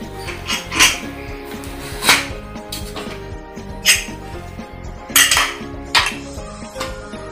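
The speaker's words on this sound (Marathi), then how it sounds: "चला मी ते कुकर उघडते आता।" Metal clanks and rattles from opening a kitchen pressure cooker of boiled chickpeas: several sharp, close knocks of lid and vessel spread irregularly over a steady low background.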